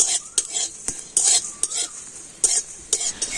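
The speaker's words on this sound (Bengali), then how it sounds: "এখন আমি এই সমস্ত মশলাগুলো দিয়ে দিচ্ছি। মশলাগুলো একটু হালকা করে ভেজে নেব।" Spices lightly fry in a pan with a chilli while a metal spoon stirs and scrapes, giving repeated clinks and scrapes every half second or so over a soft, steady sizzle, close up with no talk.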